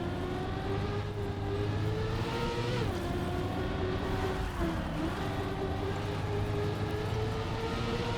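A racing car in a video game drifts through corners, its engine droning loudly and steadily, with the pitch sliding up and down as it revs through the slide, and no talk over it.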